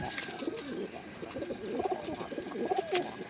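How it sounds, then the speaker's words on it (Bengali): Makra pigeons in a loft give soft, repeated throaty coos close by, layered over one another above a faint steady hum. "খুবই সুন্দর লাগতেছে মাকড়া কবুতরগুলো"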